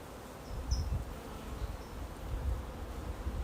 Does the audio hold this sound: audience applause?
no